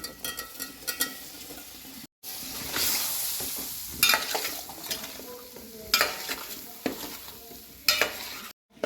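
Small raw mango pieces tipped into a hot pan for pickle and stirred, loud close sizzling broken by a few scraping stirs and clinks of the spoon against the pan.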